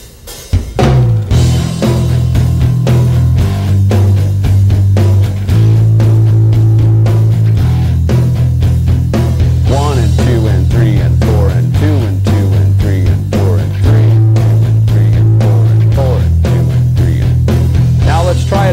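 A picked bass line plays steady, even notes in alternate up and down strokes over a full metal backing track with drums, loud and continuous, with some vocal-like sounds in the mix.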